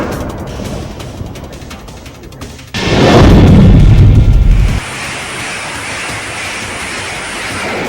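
An explosion from Russian bombardment in Kharkiv, Ukraine, lands as a sudden heavy boom that rumbles for about two seconds before dropping to a steady distant roar.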